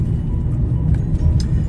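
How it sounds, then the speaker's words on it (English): Car driving home after a locksmith job, heard from inside as a loud, steady low road and engine rumble over a short stretch, with no talking. "Just driving back home now."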